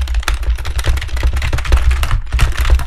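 Computer keyboard hammered hard during gaming, with rapid, loud, irregular key strikes and clacks packed closely together, close up, no talk.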